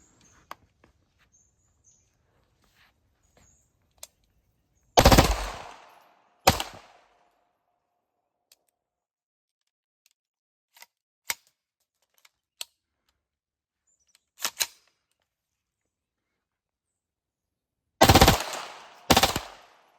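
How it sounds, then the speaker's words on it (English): Bursts of automatic-rate gunfire from a 9mm pistol fitted with a Rare Breed FRT trigger and a Glock stick magazine, two long loud strings with a few short bursts and scattered single shots between quiet gaps. "First magazine test with the rare breed trigger, 9mm Glock stick mag."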